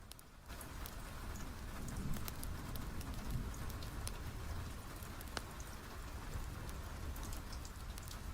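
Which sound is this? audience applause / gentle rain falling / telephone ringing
gentle rain falling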